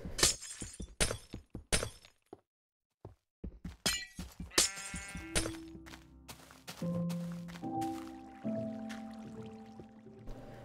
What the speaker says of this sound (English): listen to that horrible sound of breaking glass